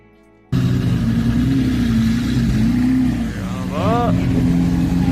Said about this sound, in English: I love a Lamborghini.